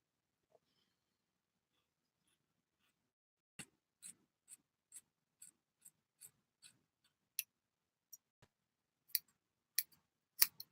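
Scissors snipping through hair while cutting bangs with blunt blades, a series of about fifteen short, crisp clicks that start after a few seconds of silence and come at an uneven pace, close and fairly quiet.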